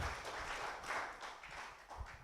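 Audience applause fills a hall at a French lecture on the bit as a symbol in Renaissance art, a steady, moderately loud patter of many hands with no talk over it.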